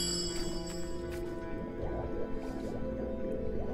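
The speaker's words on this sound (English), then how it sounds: "It's bubbling away nicely." A cauldron bubbles steadily in the fantasy adventure game Röki, with continuous wet gurgling and dripping over a sustained musical drone, close and even in level throughout.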